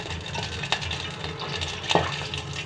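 A pot of chana dal bubbles as it cooks, giving a steady close simmering hiss with a couple of faint clinks from a utensil or lid.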